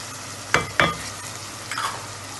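Black pepper and red chilies fry in oil for Lahori chickpea curry, with a soft, constant sizzle broken by three distinct scraping stir strokes.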